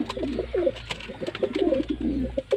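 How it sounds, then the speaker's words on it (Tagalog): Pigeons coo in close, soft, repeated rounded calls through the whole short stretch, with a low background hum. "Tapos eto mga kalapatids, mga anak ni Terminator yun"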